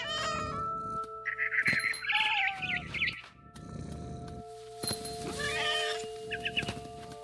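A cat meows repeatedly in the video game What Remains of Edith Finch, the calls rising and falling over a steady hum of music and ambience, with purring and caterwaul-like cries in several separate bursts.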